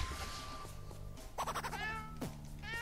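Cat meowing in an Adventure Time dungeon-crawler video game on PC, a few short high cries in quick succession layered over game music and effects.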